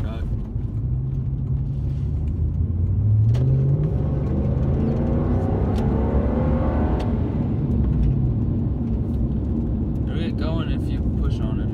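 A lifted Toyota Tundra truck engine rumbles and revs with a deep, throaty exhaust tone that swells in the middle and settles back, with a person talking over it.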